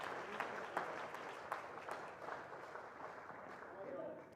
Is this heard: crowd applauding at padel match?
yes